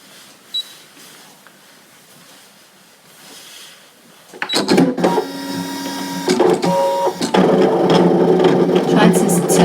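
A Brother ScanNCut machine starts up and cuts a card for a flower card project, giving a steady mechanical whir with rising motor tones and clicks that runs on continuously after a quiet start.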